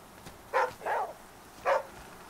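A dog barks in the survival video game Flame in the Flood, three short, fairly faint yips in quick succession over a quiet background.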